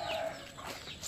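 A farm hen among chickens gives a short burst of clucking, close and moderately loud, lasting about a second.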